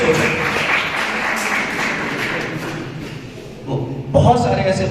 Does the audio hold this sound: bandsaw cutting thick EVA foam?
no